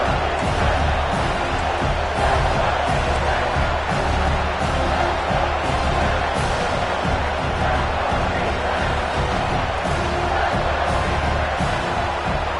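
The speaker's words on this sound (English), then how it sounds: "Crowd coming to life here, trying to help this defense down in the red zone." A stadium crowd in a football video game roars and cheers without a break, a dense wash of noise with no single standout voice.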